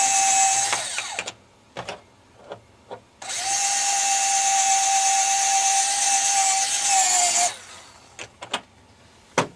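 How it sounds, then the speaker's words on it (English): A power drill drills out rivets on brackets, cutting in with short bursts, then holding a steady high whine for about four seconds before stopping, followed by a few clicks and taps. It is loud and close, with no talking. "you can save yourself a step if you want to just drill these brackets out"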